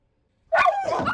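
Dog barking in a horror movie, a sudden loud burst of yipping barks after a second of silence, close and sharp with a whimpering, excited edge.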